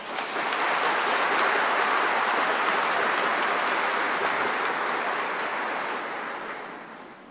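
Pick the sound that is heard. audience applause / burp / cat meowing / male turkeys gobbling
audience applause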